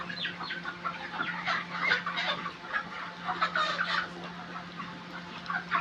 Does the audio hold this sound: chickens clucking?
yes